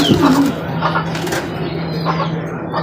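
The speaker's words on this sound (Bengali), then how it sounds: "দেখতে পাচ্ছি এখানে আর এক জোড়া রেসার কবুতর" A pair of racer pigeons cooing close by, a soft low droning coo held through most of the stretch, with a brief flutter of wings and faint background noise.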